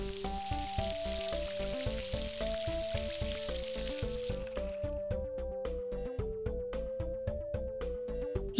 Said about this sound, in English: Move the hose to fill up the dog's water dish.